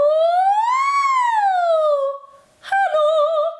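A singer's voice imitates a siren during a head-voice warm-up, a smooth sliding tone rising and falling for about two seconds, then a short break and a second, steadier wavering siren-like call, close and loud with no other sound.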